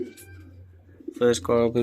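Racing pigeons coo in low, repeated throaty bursts near the end, close by, with a faint background hum and a few soft chirps before.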